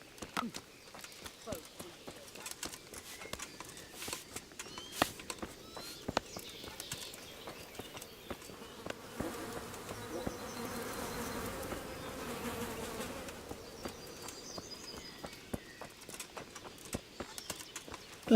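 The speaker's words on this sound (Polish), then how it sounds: "Jest jakiś konie." Horse hooves clip-clop in a steady rhythm in the medieval video game Kingdom Come: Deliverance, with buzzing insects and faint voices talking throughout.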